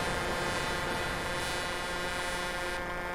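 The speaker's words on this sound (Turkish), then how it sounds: "Abim korna çalmayın." A sustained, droning truck horn blares in Euro Truck Simulator 2 multiplayer, a loud continuous multi-tone blast that holds steady for several seconds with no pause.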